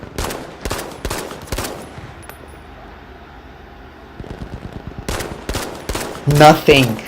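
A P08 pistol fires in a video game: sharp, close single shots in a quick irregular burst, then a quiet stretch, then another volley of shots followed by a denser clatter near the end.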